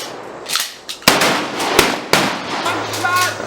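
Shotguns fired on an outdoor shooting range, three loud, sharp blasts spaced under a second apart, each with a short echoing tail, with a voice heard faintly between them.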